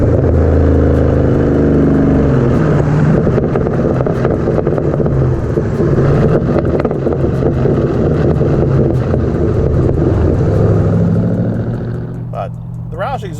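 A Ford Mustang GT with a Roush stainless steel cat-back exhaust roars and revs loudly at high RPM with heavy rumble and wind buffeting, then eases off near the end.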